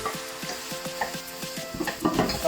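Menudo with carrots and potatoes sautéing in a pan, loud sizzling with rhythmic stirring scrapes repeating about twice a second, growing busier near the end.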